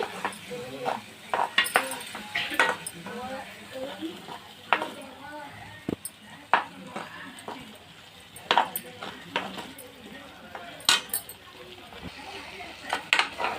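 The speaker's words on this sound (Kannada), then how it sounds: "ಈಗ ರುಬ್ಬಿದ ಮಸಾಲೆಯನ್ನು ನಾವು ಹಾಕ್ಕೋಬೇಕು. ಈ ಥರ ನಾವು ಸ್ವಲ್ಪ ಒಂದು 5 ನಿಮಿಷ ನಾವು ಚೆನ್ನಾಗಿ ಫ್ರೈ ಮಾಡ್ಕೋಬೇಕು." Ground masala frying in a pan with turmeric, stirred with a metal spoon: repeated sharp scrapes and clinks against the pan over a soft background sizzle, close by and irregular.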